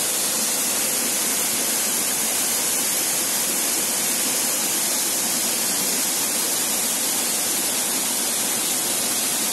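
Heavy rushing water of a mountain stream running high in full flow at Arroyo de El Tigre, Misantla, Veracruz, Mexico: a steady, dense, close roar that stays loud and unbroken throughout with no voices.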